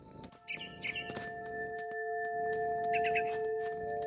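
Mama bird chirping in the video game What Remains of Edith Finch, set in a big tree: short bright twittering bursts, two near the start and a quick trill later, over steady tonal game ambience.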